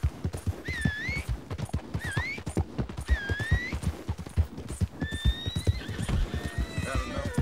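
Rapid hoofbeats of a galloping horse in the video game Red Dead Redemption 2, with repeated whinnies above, loud and close, continuing throughout.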